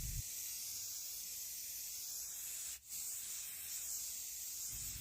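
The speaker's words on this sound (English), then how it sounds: "We're going to give these a coat of spray paint with this beautiful coastal sage color I've been in love with recently." A spray paint can sprays coastal sage paint onto Dollar Tree craft pieces in a steady close hiss, broken once by a brief pause partway through, with no voices.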